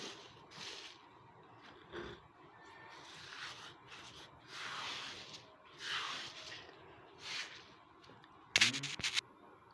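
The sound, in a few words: eggshells being ground on a grinding stone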